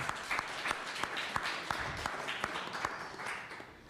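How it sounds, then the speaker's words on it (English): Audience applauding for Larry at a Philadelphia teach-in event, a steady wash of many hands clapping with a few sharper individual claps standing out, moderately loud and continuous without speech. "Let's give a round of applause for Larry."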